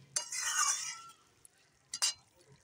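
Cooked cauliflower curry is tipped out of a pan, with a soft scraping, stirring sound of a spatula against the metal, then a pause and two brief clinks and scrapes, all faint and close.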